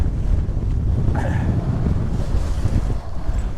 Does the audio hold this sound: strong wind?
yes